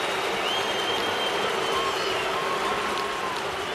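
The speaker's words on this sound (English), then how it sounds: "the applause will win out his first time up" A large baseball crowd at Tropicana Field applauds a returning player's first at-bat, a continuous distant roar of clapping and cheering with mixed reaction, steady and even throughout.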